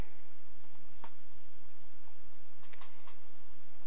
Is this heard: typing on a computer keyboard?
yes